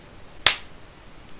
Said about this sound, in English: that was a horrible clap